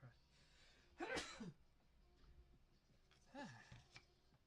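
A single sharp sneeze bursts out near the microphone, followed a couple of seconds later by a softer second burst like another sneeze or cough, over quiet room noise.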